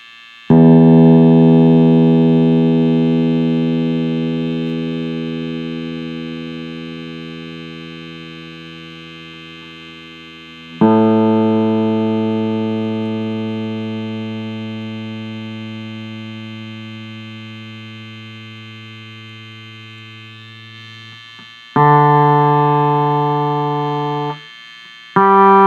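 Three sustained chords on a Flying V electric guitar, bridge pickup, volume and tone fully up, Ernie Ball 8-38 strings, each struck hard and left to ring out and slowly decay, with a bright, slightly gritty tone and no talking.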